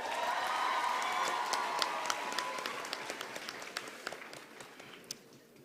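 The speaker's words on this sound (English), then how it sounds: "So let's give our parents a big round of applause." Applause at a University of Namibia graduation ceremony in Windhoek, a full crowd clapping that thins out and fades into a few scattered, distinct claps.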